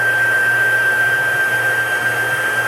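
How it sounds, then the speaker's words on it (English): A heat tool melting embossing powder gives a steady, loud blowing whir like a hair dryer, constant and alone. "Some people like to wave their heat tool around."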